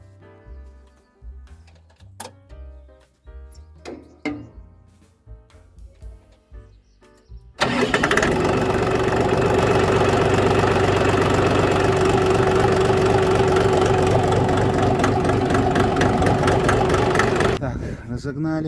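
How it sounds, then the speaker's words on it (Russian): A Shifeng SF 244 tractor, parked for an oil change, has its engine cranked and catch at once, then it settles into a loud, steady diesel idle with a rhythmic knock. Scattered clatter and speech come before the start. "Заведем трактор, разгоним масла,"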